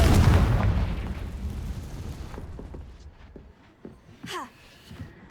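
A Confringo fire spell detonates in Hogwarts Legacy, opening with a loud, rumbling explosive burst that slowly decays into a crackling tail, followed by a few fainter magical chimes and pops.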